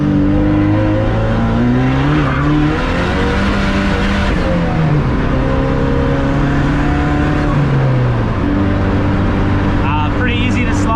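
A Pontiac Solstice with a 2-liter LNF engine accelerating hard in second gear at partial throttle: a loud, close engine drone rising steadily in pitch, easing off briefly, then climbing again.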